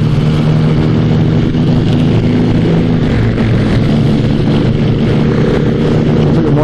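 Motorcycles ride along a dual carriageway, a loud, steady engine drone and road roar that fills the whole stretch with no pauses and no voices.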